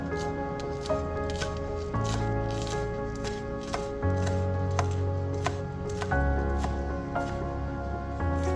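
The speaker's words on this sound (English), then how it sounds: "I'm going to cut some weird-looking green onions because they just seem right" Green onions chopped with a knife on a cutting board, a steady run of crisp, close knocks over a faint tonal background hum, with no voices.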